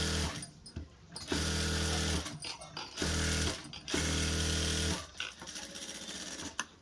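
A sewing machine running a dummy stitch through a blouse lining, whirring in several short bursts of steady motor hum separated by brief pauses.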